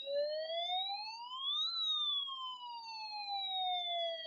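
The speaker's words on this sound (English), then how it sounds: "It's the walkie-talkie that makes the siren sound" A toy walkie-talkie plays an electronic siren, a single smooth wail rising to a peak and then slowly falling, steady and clear with no voices.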